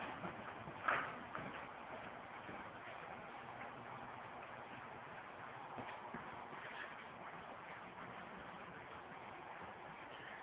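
Horse hooves clip-clopping at a walk on the footing of a riding arena, a soft, steady rhythm of muffled strikes beneath a constant broadband hiss, with one sharper knock near the start.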